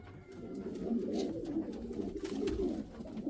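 Pigeons and their chicks coo and call softly in a coop, a steady low murmur of overlapping cooing that runs without pause, fairly close.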